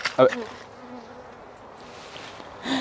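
Honeybees buzz around during a hive inspection with a sugar syrup feeder, one loud, close bee zipping past early and another near the end, with a faint hum between them.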